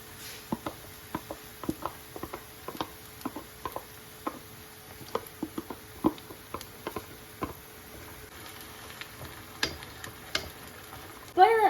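Ground masala paste sautéing in oil for egg curry gives a quiet sizzle broken by scattered spoon taps and stirring clicks against the pan.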